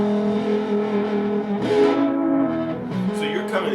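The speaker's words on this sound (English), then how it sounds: "you can start adding in some reverb over here." Sustained guitar tones washed in heavy reverb, notes ringing and blending into a lingering, shimmering tail.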